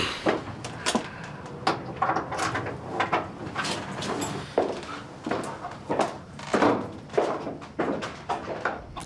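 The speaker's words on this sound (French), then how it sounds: "Oui. Ouvrez la porte." A house door is unlocked and opened: a string of sharp clicks, knocks and rattles of lock and handle, fairly close and clear, with a few faint shuffling movements between them.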